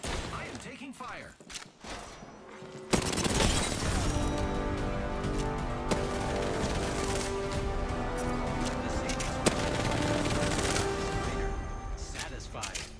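Gunfire in a battle royale video game, a dense sustained barrage of shots and crashing impacts starting abruptly and continuing loudly for about ten seconds before tapering off.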